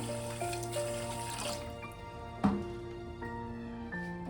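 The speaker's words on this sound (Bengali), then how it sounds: "জল দিয়ে দেব ওই বাটির 1 বাটি" Water runs from a tap into a bowl holding about 150 grams of sugar for rasgulla syrup, a steady close pour with a brief clink midway.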